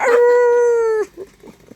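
A man imitates a dog with one steady, drawn-out howl lasting about a second, loud and close, ending abruptly and followed by faint rustling.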